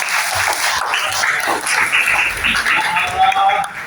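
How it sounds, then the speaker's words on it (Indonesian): A classroom crowd claps steadily for a few seconds, dense and fairly loud, with voices mixed into the applause. "tepuk tangan buat kalian semua"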